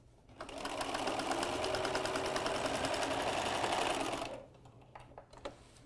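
Sewing machine stitching the boxed corners of a handbag, a steady, fast mechanical whir running continuously for about four seconds before stopping, followed by quieter handling noises.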